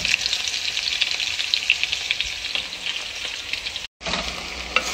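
Garlic goes into a hot pan already holding onion and browned sausage, making a loud, continuous close-up sizzle that holds steady, briefly cuts out near the end, then resumes.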